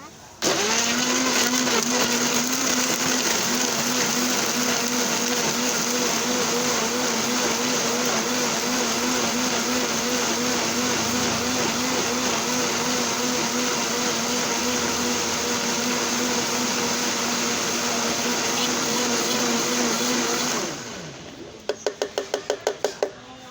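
A blender whirs loudly and steadily at top speed blending pineapple for about twenty seconds, then winds down and stops, followed by a few light clicks.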